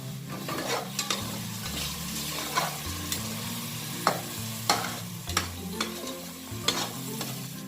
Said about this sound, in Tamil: கொத்தமல்லி, புதினா, பச்சை மிளகா மூணுமே போட்டு மிக்ஸ் பண்ணிடலாம்.